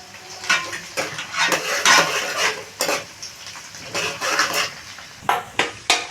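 Green chilies and garlic cloves fry in a pan with a steady sizzle, broken by repeated scraping and clinking as a spatula stirs them against the metal, close and fairly loud with no talk.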